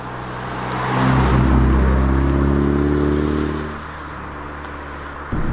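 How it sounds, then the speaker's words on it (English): Steady low road rumble and tyre drone fill the cabin of a 2014 Mazda3 while driving, swelling slightly and then easing, close and continuous with no talk. "It is a little loud in the cabin of this car."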